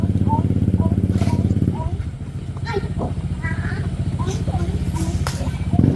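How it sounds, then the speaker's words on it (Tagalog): A red motorcycle's engine runs close by with a steady, throbbing low rumble throughout, while a person talks over it. "Ayan po yung motor niya."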